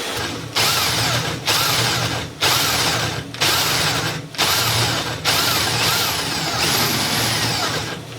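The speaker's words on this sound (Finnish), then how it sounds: "Nyt toivotaan vaan, että mä oon porannut suoraan." A power drill bores a hole in repeated bursts, a loud steady whine that stops and restarts about seven times with short pauses between, close up over a low hum.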